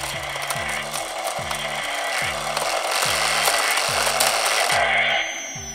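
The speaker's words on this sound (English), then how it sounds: "You could really hear that motor going when the intensity's up." A Matty Collector Ghostbusters Neutrona wand toy runs at high intensity with a loud whirring motor. A rhythmic mechanical pulse repeats about every half second under a dense hiss of sound effects.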